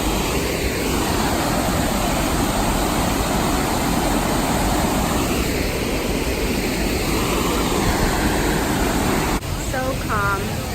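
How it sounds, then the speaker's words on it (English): A tall waterfall roars as a steady, loud broadband rush that fills the whole scene, with brief bird chirps near the end. "We made it to the grand finale waterfall."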